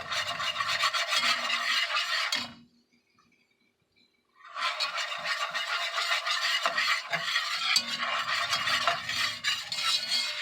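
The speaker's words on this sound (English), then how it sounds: "And it's a butter roux. You got to keep it moving, just like you do with a gumbo roux." Butter roux being stirred in a pan for shrimp étouffée: a continuous scraping, rasping stir across the pan bottom, loud and close, pausing briefly for about two seconds before resuming with uneven strokes, no talking.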